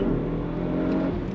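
Audi RS7 accelerating hard on a 0-60 timed run, a loud steady engine roar with rising pitch, heard close and without talk.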